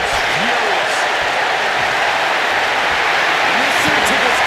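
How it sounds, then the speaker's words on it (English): A crowd roars at a wrestling match in the WWE 2K25 video game, a loud, dense, continuous cheer with faint voices mixed in throughout. "Listen to this crowd, driving these competitors to leave everything out in the ring"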